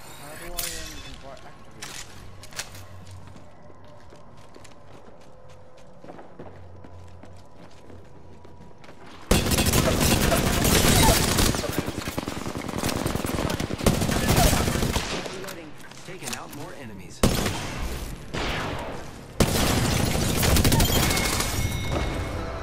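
Gunfire in Apex Legends: quieter scattered shots at first, then loud sustained bursts of rapid automatic fire with brief pauses, close and dense, with some talk mixed in.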